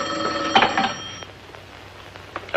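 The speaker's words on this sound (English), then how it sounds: "I think I better answer that phone." A telephone bell rings in a vintage sitcom home, a couple of bright ringing bursts near the start before it falls quiet, with faint room noise after.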